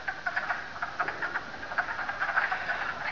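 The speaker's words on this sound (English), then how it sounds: "Can you hear the peepers?" Spring peeper frogs chorus in a bog, a dense, steady wash of high, overlapping peeps and trills at moderate volume with no voices over it.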